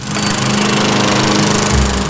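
A lawn mower engine runs loud and close, its steady rapid putter droning without a break for the whole stretch.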